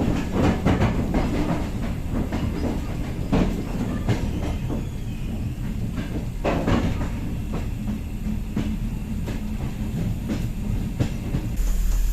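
A slow passenger train, under 25 miles an hour, rolls along the rails, its rumble steady with irregular clanks and wheel clicks, close by and with no voices.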